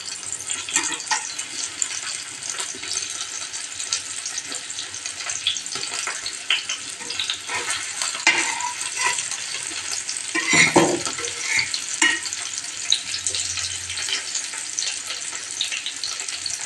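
Food tawa-frying on a flat griddle pan in a home kitchen, giving a steady sizzle with scraping and stirring throughout and a brief louder clatter near the middle; no one speaks.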